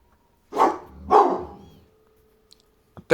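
A dog barks twice in quick succession at moderate distance indoors, each bark loud and full, followed by a few faint clicks in an otherwise quiet room.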